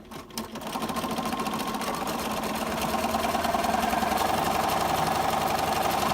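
Sewing machine stitching down the stem of a quilted hosta leaf appliqué, a steady fast mechanical whir and knock running continuously after a brief start, close and fairly loud.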